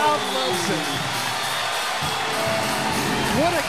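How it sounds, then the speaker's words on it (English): A volleyball match crowd cheers and whoops in an arena, a dense sustained roar of many voices with a few shrill shouts rising near the end. "Oh, the crowd loves it."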